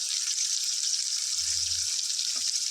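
Chicken liver frying in a pan for a masala curry, a steady bright crackling sizzle throughout, close and even, with a faint low thump near the middle.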